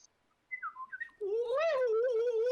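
A voice imitates the R2 astromech droid from Star Wars, a few quick rising and falling whistled chirps followed by a long sustained warbling hoot, close and fairly loud.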